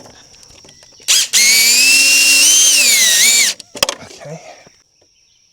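A power drill drives a screw to fasten a box outdoors, one loud, rising whine lasting about two seconds, followed by a brief clatter and a short spoken word.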